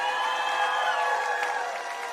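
Audience at a summer singing competition finale applauds and cheers for a performer, a steady dense wash of clapping and whoops from a crowd, sustained at an even level without speech.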